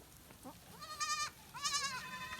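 Goats bleat twice in succession, loud and close, each call wavering and drawn out, with no talk over them. The animals are being fed cut grass around midday in hot weather.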